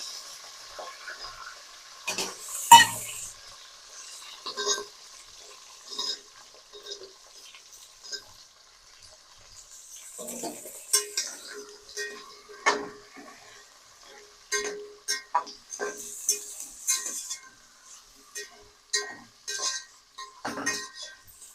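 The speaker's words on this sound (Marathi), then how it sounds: "आता आपण त्याच्यामध्ये सगळ्या भाज्या टाकूया तळण्यासाठी" Vegetables for veg pulao are stirred and fried in a pan, with soft sizzling broken by intermittent spatula scrapes and metallic clinks against the pan at an uneven rhythm.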